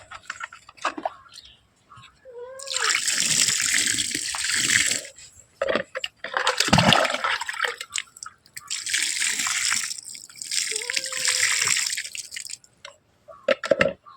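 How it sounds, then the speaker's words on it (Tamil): Water is sprinkled over freshly planted native betel vine cuttings in a farm plot, heard as several long, hissing splashes in bursts, with someone talking in between. "அடுத்தபடியாக தண்ணீர் தெளிச்சுக்கலாம்"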